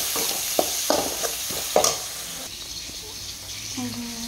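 Ginger, cumin, green chili and garlic paste fries in a pan, a moderate hiss under sharp spoon taps and scrapes in the first two seconds, then a softer sizzle, with a brief voice near the end.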